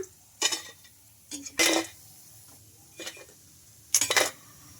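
Fried peanut-and-rice snacks are lifted from a pan onto a plate, giving a few separate, close metallic clinks and scrapes with quiet pauses between them and no talking.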